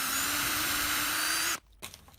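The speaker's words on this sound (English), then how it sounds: "So I'm just going to put a pilot hole with a countersink here." A power drill whirs steadily and close while boring a countersunk pilot hole into a campervan cupboard frame, then stops abruptly, leaving faint handling noises.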